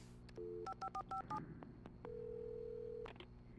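Short beeping tones of a number being punched into a phone in the video game Alan Wake, a quick run of key presses followed by a longer steady tone, faint and close.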